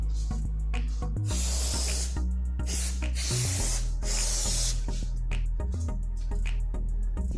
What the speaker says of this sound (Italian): Lubrifichiamo anche con lo spray a silicone